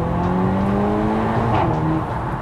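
An engine revs upward under acceleration, its pitch rising smoothly then shifting, heard from inside or near the vehicle over steady road noise.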